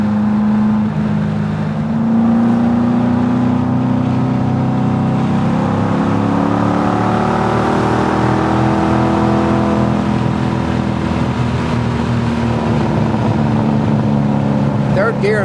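A Datsun 240Z restomod pulls hard in third gear, its engine note rising steadily in a loud, sustained climb heard from inside the car, with a voice speaking over it.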